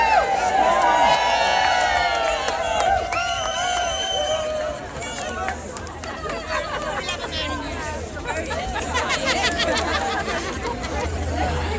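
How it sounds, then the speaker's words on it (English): Passers-by cheering at a London street protest, a loud mass of overlapping shouts and whoops up close, mixed with crowd chatter and someone talking over the noise. "we have some people just walking by, cheering"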